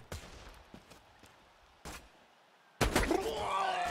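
Enemy gunfire in the video game Borderlands 2, scattered sharp shots and thuds early on, then a loud burst of layered firing and impacts near the end.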